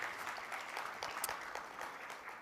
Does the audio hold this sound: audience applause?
yes